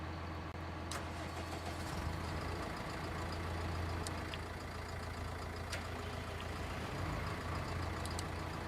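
The engine of a Claas Atles 900RZ tractor in Farming Simulator 19 runs at a steady idle, a low continuous hum with a faint mechanical rumble and a few brief clicks over it, quiet and unbroken.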